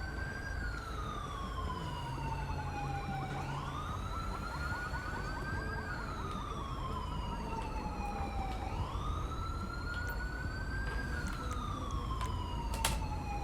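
An ambulance siren wails in the GTA 5 video game, its pitch sweeping slowly up and down in long cycles, loud and continuous over engine and traffic rumble, with no talking.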